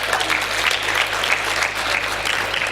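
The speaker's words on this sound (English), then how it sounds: "Can I have a big applause for the team," An audience claps for the team at the opening of the NifNex 2013 SME business expo, a dense, steady round of applause that stays loud throughout with no talk.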